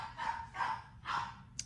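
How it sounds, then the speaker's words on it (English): Several dogs bark at home in three loud, close bursts of barking spaced about half a second apart, ending with a brief sharp yip. "You can hear my dogs. They always start."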